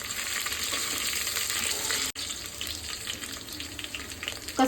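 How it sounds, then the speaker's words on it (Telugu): Chopped green chillies sizzling lightly in oil in a pan while cooking coconut rice, a continuous close crackling hiss that breaks off abruptly for an instant midway, then resumes with some stirring clatter. "కట్ చేసిన 2 పచ్చిమిర్చి, అవి కూడా లైట్గా ఫ్రై అవ్వాలి."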